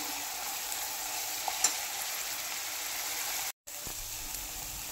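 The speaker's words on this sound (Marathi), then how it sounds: "हिरवी मिरची जी आपण बारीक चॉप केली होती तेही छान अशी परतवून घ्यायची आहे" Finely chopped green chilies sizzle and fry in a pan for pav bhaji, a steady continuous hiss with a few faint clinks and a brief drop to silence near the end.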